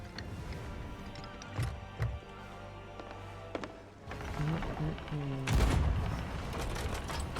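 Cannon fire aimed at a big ship in Sea of Thieves, with several booming shots at irregular intervals and a heavy blast near the end, mixed with game ambience.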